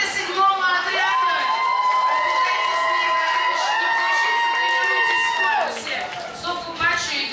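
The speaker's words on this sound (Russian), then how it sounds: "Итак, аплодисменты 7-му отряду." Applause and cheering for the 7th squad at a children's camp art contest, with crowd shouts and whoops mixed with music-like tonal voices and chatter, loud and lively throughout.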